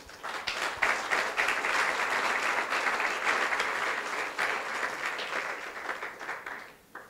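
A church congregation breaks into loud, sustained applause, many hands clapping together in a dense, even roar that holds for several seconds before tapering off at the end.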